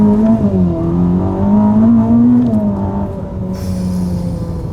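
A 1000 HP Ferrari, the most powerful Ferrari ever built, pulls hard along a short straightaway, its engine droning loud and steady close by as the pitch climbs and dips through the run.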